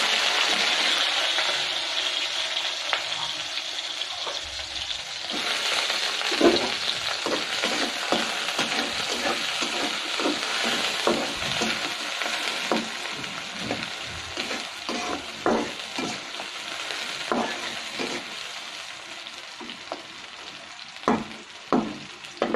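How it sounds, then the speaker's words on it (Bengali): Food fries steadily in hot oil with a loud, constant sizzle close by, and clicks and scrapes of stirring come through over the crackle. "অলরেডি তেল গরম হয়ে গেছে"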